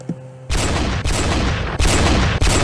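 A ghost sniper rifle fires in the Roblox video game as loud, dense, continuous gunfire. The volley runs almost without a break across the clip and drops off only for a moment between bursts.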